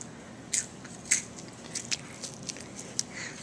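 A child bites into and chews crunchy salt and vinegar flavored crickets, giving several close, sharp crunches spaced through the moment with no talking.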